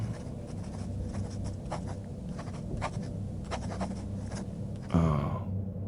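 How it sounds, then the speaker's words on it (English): A pen scratches across paper in steady, close strokes, with short pauses between bursts of writing, and a brief louder scrape near the end. "Alright, let me write that in."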